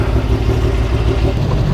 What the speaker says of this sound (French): on entend tout, le moteur, les gravillons